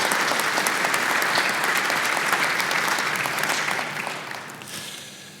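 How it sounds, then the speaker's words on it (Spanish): A large audience applauds a speaker at a Fundación Chile Descentralizado event, the clapping loud and continuous before tapering off toward the end. "Un gran aplauso y gracias por hacerlo así."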